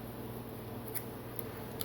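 Paracord strand for a four-color snake knot bracelet snipped with scissors: a few faint, sharp clicks and snips at scattered moments over a steady low hum.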